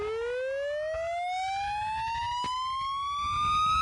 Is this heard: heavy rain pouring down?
no